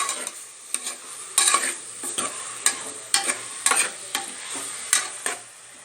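Chopped onions sautéing in oil in a pan for egg paneer curry masala, a bright continuous sizzle broken by repeated scraping stirs of a spatula, close and loud with no voices.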